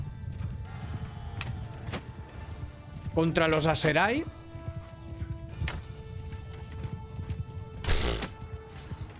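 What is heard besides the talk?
horses galloping in video game Mount and Blade 2 Bannerlord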